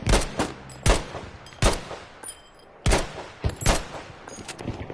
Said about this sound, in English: I think the artillery probably covered the sound of my shots